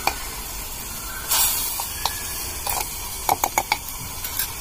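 Garlic paste hitting hot oil with browned onions in a small kadai, giving a steady loud sizzle with brief spattering pops and stirring clicks, no talk.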